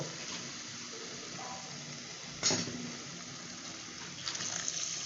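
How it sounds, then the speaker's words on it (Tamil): Water pours quietly into a pan of rock fish curry in a home kitchen, a soft steady trickle with a couple of brief louder splashes. "தண்ணி ஊற்றியாச்சு"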